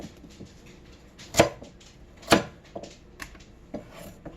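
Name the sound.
knife cutting a carrot into thirds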